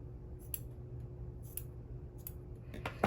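Scissors snip through a fluffy yarn pom-pom in quick, sharp cuts, about four distinct snips spaced roughly a second apart, close and crisp over a quiet low hum.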